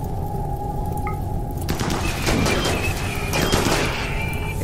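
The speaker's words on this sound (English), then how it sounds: "The incendiary launchers did not wait at all." Incendiary launchers fire in a RimWorld battle, a rapid fusillade of sharp, crackling shots and bursts that grows denser and louder partway through, with no talk.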